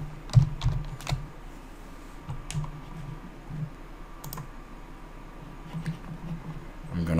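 Light typing on a computer keyboard enters a username and password during setup of a biometric timeclock. Scattered soft key clicks come in small bursts over a quiet room hum.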